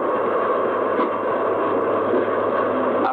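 A train rolls steadily along the tracks, a loud continuous rumble and rattle of rail cars heard close, as from inside or right beside a moving carriage, without pause for the whole stretch.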